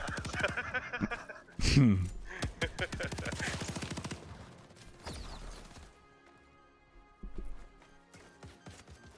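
A light machine gun fires in a Starship Troopers VR game as rapid bursts of close, regularly spaced shots, mixed with crashing impacts, then sparser shots trailing off. A voice talks in places.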